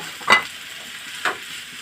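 Bitter gourd (ampalaya) hits a hot pan and is stirred while half-cooking, giving two short, bright sizzling bursts about a second apart over a faint background hiss.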